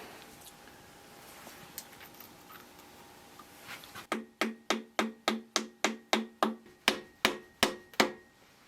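Alignment dowels are hammered into a John Deere 1010 engine in a fast series of about fourteen sharp, ringing metallic strikes, each decaying quickly, after a few seconds of quiet shop ambience.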